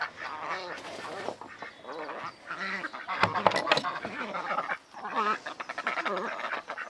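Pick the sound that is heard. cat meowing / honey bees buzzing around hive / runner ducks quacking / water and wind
runner ducks quacking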